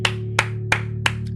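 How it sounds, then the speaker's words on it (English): Four evenly spaced, sharp single claps sound close and distinct over a steady low hum, followed by a fainter fifth clap. "Clap that up"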